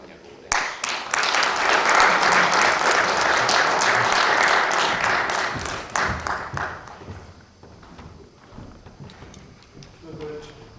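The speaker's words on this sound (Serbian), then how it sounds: "Molimo vas da je toplim aplauzom poželimo dobrodošlicu i čujemo njegovu reč." An audience at a poetry reading in Serbia gives warm applause to welcome a guest, loud dense clapping from many hands that holds for about five seconds, then thins into scattered claps as the room quiets.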